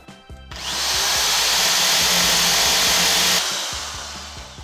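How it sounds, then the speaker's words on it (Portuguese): An electric drill bores holes into a table to build a round party panel, whirring loudly and steadily for about three seconds up close, with light knocks before and after. "Agora a gente vai começar a furar a mesa."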